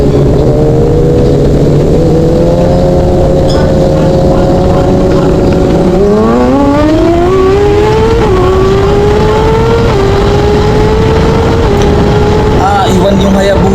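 Two big sport motorcycles, a Suzuki Hayabusa and a Suzuki GSX-R 1000R, race each other, their engines climbing through the gears with rising whines and loud revving, while a voice talks over much of the run.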